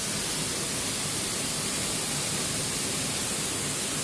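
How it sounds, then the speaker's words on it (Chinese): A waterfall seen from inside a rock cave at Lingjiao, a steady broadband rush of falling water that fills the whole clip evenly and fairly loud, with no voices. "哇，看到瀑布"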